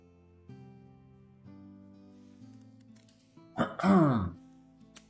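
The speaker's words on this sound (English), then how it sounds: "No, I didn't sneeze, Cheese. It was just a bad cough." A single rough cough or throat-clear bursts out near the microphone over a soft, steady background tone.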